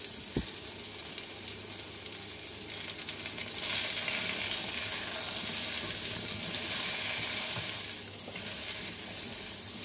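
Potatoes frying in hot oil for Filipino chicken adobo, a steady close sizzle that grows louder and busier midway, with no talking.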